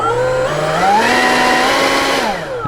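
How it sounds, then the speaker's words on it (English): A handheld leaf blower pushes air down into the spiral tube of a portable compost bin, a loud, steady whining drone whose pitch climbs once early and then holds, close to the mic with no talk. "Then I get my blower when I'm cleaning the yard."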